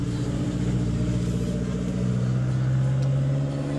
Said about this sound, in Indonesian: ntar ada mobil lewat bro, noise nya itu bro